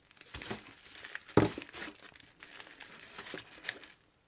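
Small gifts wrapped in tissue paper are handled inside a handmade explosion-box advent calendar, giving close, soft, irregular crinkling with one sharper rustle partway through.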